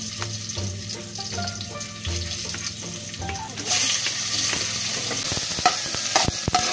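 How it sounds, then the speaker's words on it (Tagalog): Sardines and aromatics sauté in hot oil in a pot, starting with light stirring and clatter, then building into a louder, steady sizzle with sharp utensil knocks against the pot near the end, without talk. "Gigisa natin guys yung sardinas"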